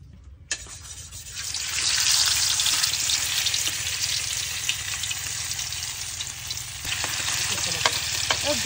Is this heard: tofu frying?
yes